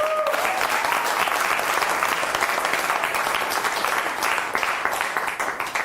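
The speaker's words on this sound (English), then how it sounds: "You get a big and nice round of applause" At a live mentalism show, the audience gives a full round of applause as a volunteer is called up: continuous, dense clapping from a crowd, strong and steady, easing slightly near the end.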